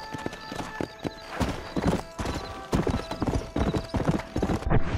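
Horse hooves clop quickly and continuously in a gallop in the Red Dead Redemption video game, close and prominent, with a horse whinny mixed in.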